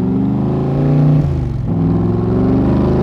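The engine of a 1965 Shelby Cobra Backdraft with a 5-speed gearbox revs loudly up close, a deep throaty rumble that rises and dips briefly before settling back into a strong idle.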